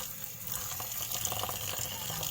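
Running water splashes over oyster mushrooms as they are rinsed, a steady close gush with small bursts of movement and no talking.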